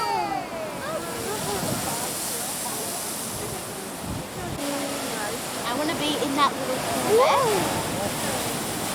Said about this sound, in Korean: 파도가 이 작은 화강암 구멍으로 솟구친다.